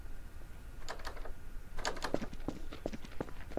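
Keys tapped on a computer keyboard during a Garry's Mod session, a few quiet scattered clicks followed by a short run of irregular keystrokes over a faint background hum.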